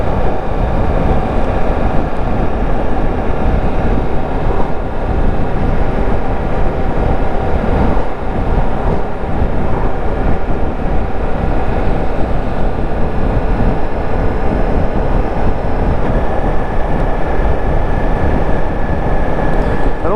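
A Suzuki GSX-S 125 motorcycle engine droning steadily while riding uphill with extra throttle, a continuous loud low rumble with wind noise that holds for the whole stretch, no voices.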